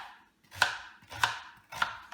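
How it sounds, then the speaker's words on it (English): Three sharp knife chops through sweet onions on a cutting board, evenly spaced, close and crisp with quiet pauses between. "let's cut our onions,"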